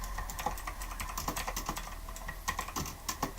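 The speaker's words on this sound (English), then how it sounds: "I'm typing something real quick." Rapid clicking keystrokes on a computer keyboard, close and continuous for several seconds, with uneven rhythm and occasional louder taps, no voices over it.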